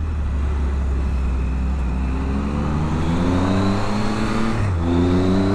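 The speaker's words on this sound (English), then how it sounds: "Big lorry, big lorry, Arctic coming down." An articulated lorry rolls down a mountain road in the Pyrenees, its deep engine drone loud and steady and rising in pitch as it nears, heard over the constant rumble of a motorcycle engine.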